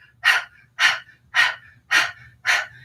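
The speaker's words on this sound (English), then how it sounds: "Breath of fire is a rhythmic breath that moves the diaphragm." Five evenly spaced, forceful breaths pushed out through the mouth in a steady panting rhythm of breath-of-fire practice in Kundalini yoga, close and clear with no talking.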